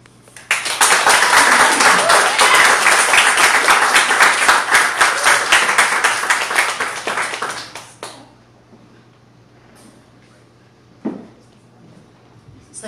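An open mic audience breaks into loud, dense applause that holds steady for several seconds, then fades out to near quiet, with one faint later sound.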